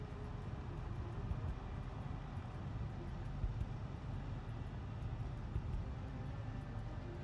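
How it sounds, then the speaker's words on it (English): A helicopter in the zombie survival game Project Zomboid drones on as a steady low rumble with a faint rhythmic chop, distant and continuous, with no voices over it. "I hear a helicopter happening."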